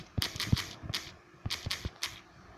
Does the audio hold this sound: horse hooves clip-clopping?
no